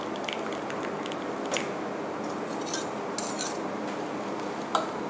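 Spinach cream soup is served into a bowl, with soft clinks of a ladle or spoon against the dish and gentle liquid movement over a quiet background hiss.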